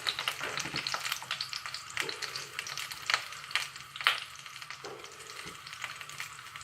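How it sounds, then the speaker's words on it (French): Onions sizzle and crackle in hot oil for a kefta and vegetable tajine, a steady close frying hiss broken by a few louder stirring scrapes and pops. "Là, je vais mettre les oignons d'abord."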